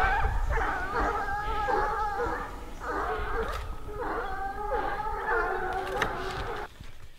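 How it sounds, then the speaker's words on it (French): Four Swiss hounds (chiens courants) bay together while running in the mountains, their overlapping howling voices rising and falling in repeated rhythmic bursts, moderately distant with a faint echo. "4 chiens courent ensemble, c'est 4 voix différentes. C'est toute une harmonie avec les échos que ça déclenche dans la montagne"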